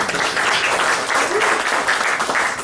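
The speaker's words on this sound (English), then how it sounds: "Give yourselves a round of applause." An audience of Tea Party members at a political speech applauds steadily, dense clapping filling the whole stretch at a constant, fairly loud level.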